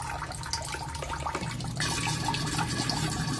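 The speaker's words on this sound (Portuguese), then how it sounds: "E isso aqui é um aerador, gente, um oxigenador" A Venturi aerator oxygenating a water tank produces a continuous rushing, bubbling gush that swells louder partway through and then holds steady, with no talk over it.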